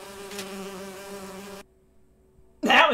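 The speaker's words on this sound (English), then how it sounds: "Bees!" Bees swarm out of a bee trap in a video game, a droning buzz that runs steady for about a second and a half, then drops to a faint hum before a sudden louder burst.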